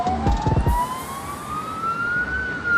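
A cartoon police car siren wails in a long rising tone, loud and close, with a few brief knocks at the start.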